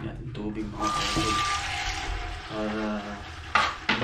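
Water pours and splashes into a cooking pot for pork sinigang, a continuous gurgling stream heard up close, mixed with a person talking over it.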